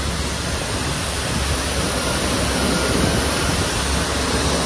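A Qatar Airways jet engine roars loudly and steadily on the ground just after landing in Doha, a broad, unbroken whoosh close by.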